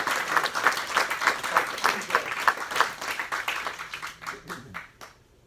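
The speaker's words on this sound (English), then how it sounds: "Hey, give her a big hand." Lively audience applause with a steady clapping pulse and crowd murmur, building and then tapering off to quiet by the end.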